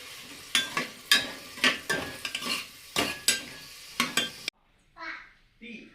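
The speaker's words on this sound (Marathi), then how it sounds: "आता टोमॅटोही आपण चांगला परतून घेऊया याच्यामध्ये." Tomatoes frying in a pan while a spoon stirs them for a dry sprouted moth bean dish, with about a dozen sharp scraping strokes over a sizzle, then a brief quieter pause.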